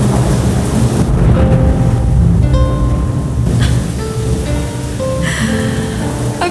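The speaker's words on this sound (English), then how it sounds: "Now we're having a thunderstorm in this video." A thunderstorm fills a living room with a steady wash of heavy rain and low rumbling thunder, loud and continuous throughout, with no voices.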